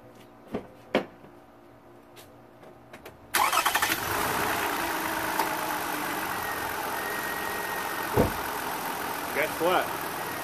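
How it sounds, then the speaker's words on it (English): A Toyota car engine cranks and fires up abruptly after a few scattered handling knocks, then settles into a steady, fairly loud idle close by, with brief bumps and a faint voice over the running engine. "Let's go start the engine."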